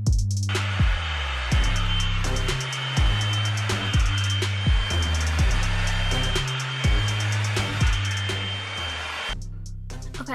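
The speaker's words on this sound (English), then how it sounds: "we're going to proceed to blow dry" A hair dryer brush blows out type 4 natural hair with a loud, steady whir. The whir swells and dips in a repeating rhythm as it is pulled through the hair, and it runs alone without talk.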